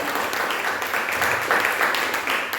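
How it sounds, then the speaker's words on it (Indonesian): A church congregation claps in applause for a few seconds, a dense, fairly loud burst of hand claps that swells and ebbs slightly without any speech over it. "Tepuk tangan."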